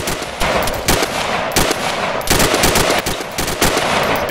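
Gunfire from the military video game ArmA 3, loud bursts of automatic fire that crack out in quick volleys with short pauses between them.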